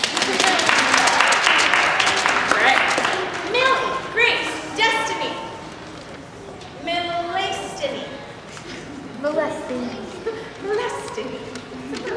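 An audience claps in a short burst of applause for performers in a children's Moana play. Then people talk, and children's voices and chatter follow.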